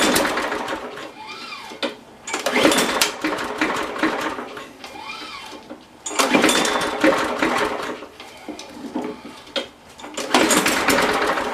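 A Briggs and Stratton engine running on very little throttle, with an uneven, surging putter that swells and fades in rough waves, fairly loud and close, no speech.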